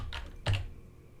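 A few quick keystrokes on a computer keyboard, close and fairly clear, in two small bursts over a low background hum.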